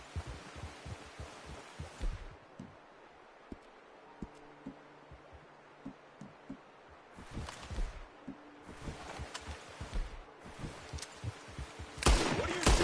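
Gunfire in the Red Dead Redemption video game during an outdoor hunt: sharp, scattered shots and thumps, first in a dense cluster, then sparse, then another flurry, with a loud burst at the end over quiet ambience.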